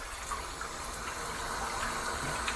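Bathroom taps in a hotel run steadily, a constant close hiss of water flowing into a basin with no pauses or voices.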